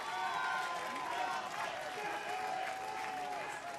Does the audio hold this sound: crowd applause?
yes